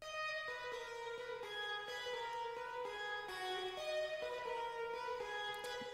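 A guitar-like synth plays the original melody as a sequence of clear sustained notes with effects added, rich in harmonics and steady in level, with no voices.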